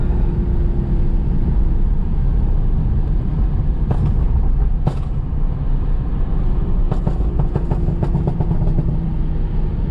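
BMW 640i Gran Coupe with an MHD Stage 2+ tune and TurboSmart blow-off valve accelerating hard, heard from inside the cabin as a loud, steady engine and road roar, punctuated by a few sharp bursts.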